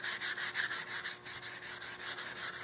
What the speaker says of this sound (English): that's why it's sanding so nicely